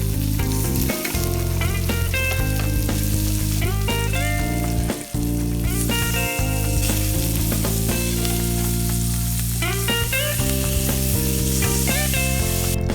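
Homemade burger patties sizzle loudly and continuously in a frying pan, with the crackle of hot oil steady throughout and several brief scraping, clattering turns as the patties are flipped one by one.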